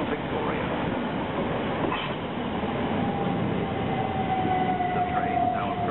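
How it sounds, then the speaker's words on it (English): A Southern train rumbles steadily into platform 12 at Clapham Junction station, with a faint high squeal of wheels rising toward the end and constant low rolling noise. "The train now approaching platform 12 is the 1356 Southern service to London Victoria."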